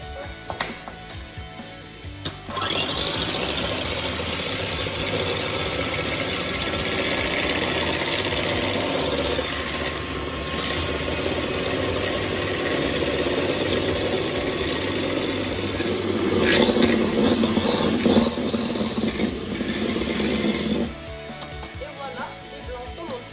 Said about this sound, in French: On va commencer par monter les blancs.